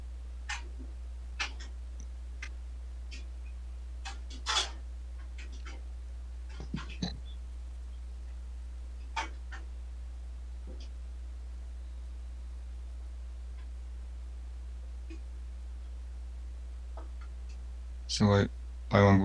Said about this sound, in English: So Pyhuang will be typing his response, hopefully.